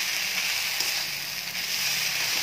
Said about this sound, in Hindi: गरम क्या फ्राई कर रहे हैं खिचड़ी